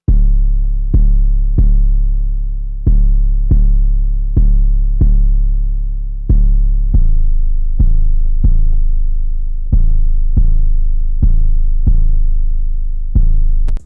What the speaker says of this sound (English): then I added this 808 pattern